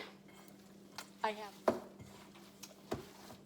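Chopped jalapenos are worked into a raw turkey burger mixture in a bowl, giving soft squishing with a few distinct utensil clinks and taps against the dish, over a faint steady hum.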